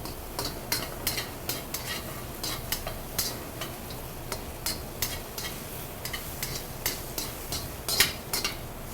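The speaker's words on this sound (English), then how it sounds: "We just want to saute this until our mushrooms are cooked." Shiitake mushrooms sautéing in a pan for a Thai beef and eggplant stir-fry, with a steady low sizzle and frequent light scrapes of a utensil against the pan.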